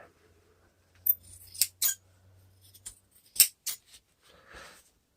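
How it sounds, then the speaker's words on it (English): Scissors snip through acoustic foam while trimming a homemade bass trap, several close, crisp cuts in two short bursts with pauses between, alone without talk. "all we want to do now, is just to trim this back with our scissors"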